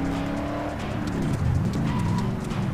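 A car driving in the video game Call of Juarez The Cartel, its engine a steady loud drone that swells slightly partway through, with rough tire and road noise underneath.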